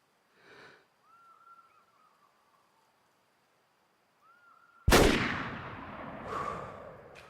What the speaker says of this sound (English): I'm gonna be shooting through some sticks.